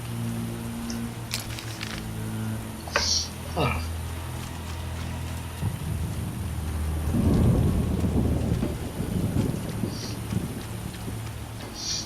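Steady rain hiss with rumbling thunder swelling in the middle in the video game The Witcher, set in a swamp, a low rolling roar, plus a few faint clicks on top.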